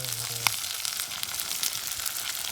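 Meat frying at an outdoor birthday gathering, a steady sizzle of moderate loudness that runs through the whole stretch, with a sharp clink near the start and light crackles scattered throughout.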